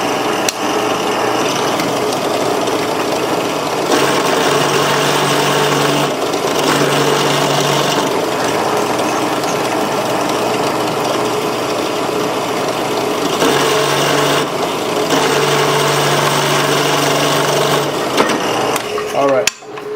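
A power drill whirs loudly in repeated bursts of a few seconds each while restoring an old Old Hickory butcher's knife, its motor pitch rising and falling as it bites into wood.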